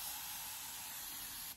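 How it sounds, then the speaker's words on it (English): A spray bottle filled with hot water mists onto hair in one steady hiss that runs about a second and a half, then cuts off abruptly. "the reason why I have hot water in my spray bottle"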